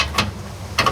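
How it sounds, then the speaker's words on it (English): A flex head ratchet with a 14 mm short socket on a nut during a coilover swap, two short bursts of rapid pawl clicking close by, separated by a brief pause. "So I'm gonna try a flex head ratchet with a 14 short millimeter socket to get up over that ridge and drop in on the nut"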